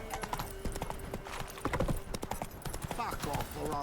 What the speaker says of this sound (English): Oh my god, my horse is stupid.